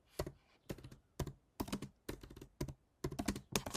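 Fingers typing on a computer keyboard in short, close bursts of rapid clicking keystrokes separated by brief pauses, with no voices.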